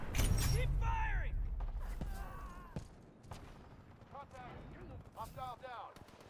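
Weapon fire in the video game Titanfall 2, loud bursts and booms at the start giving way to sharp scattered shots and mechanical whooshes, with a voice talking over the action.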